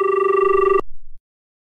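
A telephone bell rings loudly with a steady electronic trill that stops abruptly partway through, followed by a short low tail before silence.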